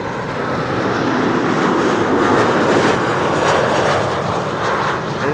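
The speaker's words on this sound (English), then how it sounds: "this is German Airways arriving from Stavanger, flying on behalf of KLM, Embraer 190" An Embraer 190 jet of German Airways, flying for KLM in from Stavanger, roars past on arrival, a loud, close, continuous engine rush swelling slightly midway, with no voices.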